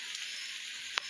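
Puli pitha frying in hot oil, a soft continuous hiss of bubbling with a single brief pop near the end, fairly faint and close.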